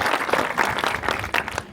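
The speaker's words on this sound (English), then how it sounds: "A round of applause, please." Applause from the crowd at a fundraising event held at Pakistani House in Chandler, a short burst of dense clapping that fades after under two seconds.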